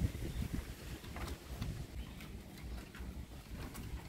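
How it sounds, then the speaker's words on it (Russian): Wind rises over the countryside near cherry trees, a faint, gusty low rumble with soft rustling that swells and fades with no speech. "У нас ветер поднялся."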